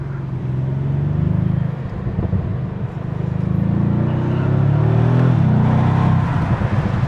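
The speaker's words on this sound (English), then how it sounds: "Put the window down, see if we can hear that V8 a little bit more." A Bentley Continental GT's V8 engine rumbles low and steady with the window down, swelling and easing as the car drives, heard from inside the cabin with road noise.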